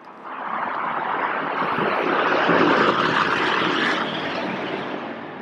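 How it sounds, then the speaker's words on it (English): A Southwest Airlines jet taking off at an airport, its broad engine roar swelling steadily to a peak and then easing away, fairly close and loud with no voices. "Yep, Southwest plane taking off."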